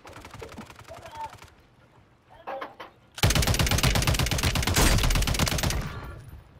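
Video game gunfire comes in rapid automatic bursts: a few shots first, then a loud, sustained close-range barrage, with a voice talking near the start.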